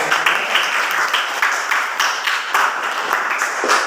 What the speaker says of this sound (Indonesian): Tepuk tangan untuk teman kalian sudah menjawab.